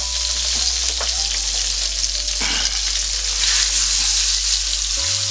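A pork chop sizzles loudly in a hot buttered skillet, a dense, steady frying hiss that holds throughout, ending with a brief clank of a utensil near the close.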